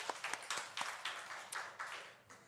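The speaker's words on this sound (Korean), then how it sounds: "우리 하나님께 영광의 박수 올려드리겠습니다" A church congregation at a Korean Sunday service claps in praise: scattered, fairly faint handclaps come at an uneven rhythm in a reverberant hall, without any talk over them.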